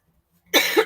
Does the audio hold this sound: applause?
no